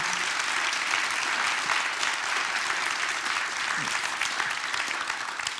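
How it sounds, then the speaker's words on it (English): A conference crowd applauds for keynote speakers, a full, continuous roar of clapping at steady loudness for the whole stretch. "please join me in thanking our keynote speakers today, Jim Thompson and Rachel Sacco."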